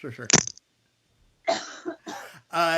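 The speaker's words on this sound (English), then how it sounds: "I'm sorry if you can hear me cough." A single sharp cough up close, followed by a pause and then a person speaking.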